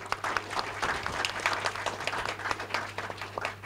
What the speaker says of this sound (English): A big warm round of applause for them, please.